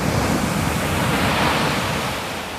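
Sea waves break on a Kerala beach, a steady close roar of surf and wash that fades slightly toward the end, with no voices.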